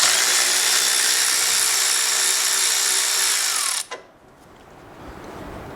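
A power tool whines loudly and steadily while a bolt is removed from a CF Moto UForce 1000 XL A-arm, then cuts off abruptly, leaving a quiet background.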